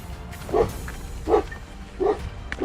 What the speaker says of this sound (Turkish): Nasıl bir köpek ki bu sese bak